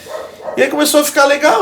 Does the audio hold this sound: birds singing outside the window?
no